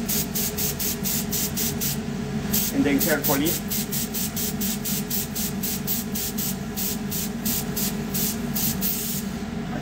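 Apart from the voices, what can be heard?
Badger 250 airbrush spraying chocolate onto a mold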